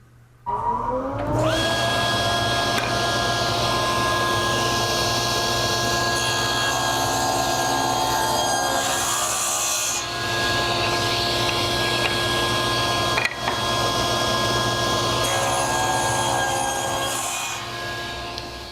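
A power saw, likely a table saw, cuts wooden staves held against the fence, running as a steady loud whine with brief dips in the cut throughout, with no talking.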